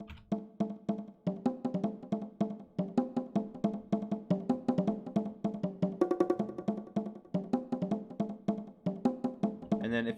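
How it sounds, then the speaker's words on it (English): A fast, steady bongo pattern programmed in FL Studio, with delay and reverb trailing each hit, plays alone in a rapid, continuous rhythm. "I just took this bongo sound, added delay and reverb"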